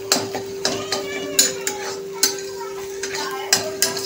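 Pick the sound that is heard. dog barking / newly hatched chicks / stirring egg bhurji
stirring egg bhurji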